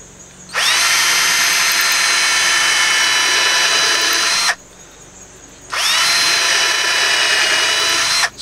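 Power drill driving screws into wood while building a rack, two long loud whining runs of about four and three seconds with a short pause between, each spinning up sharply and holding a steady pitch, close and with no voices.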